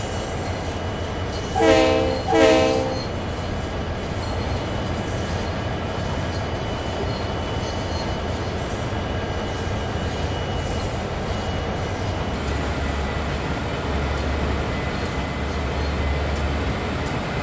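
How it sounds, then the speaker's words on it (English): A train horn sounds in Train Sim World 3, two loud stacked blasts near the start, then the train rolls on with a steady low rumble and engine drone throughout. "hit the horn, let's go"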